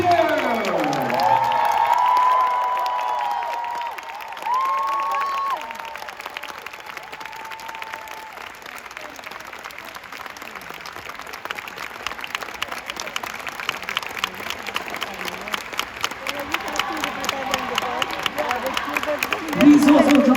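Large crowd in an indoor stadium at a school band event cheers and applauds, a loud burst of clapping fading to sustained scattered applause, then swelling again near the end, with an announcer's voice over it.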